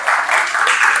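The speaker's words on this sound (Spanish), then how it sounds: "Un aplauso, por favor," Audience at a school debate tournament applauding a speaker being introduced: a loud, close burst of steady clapping throughout the short moment.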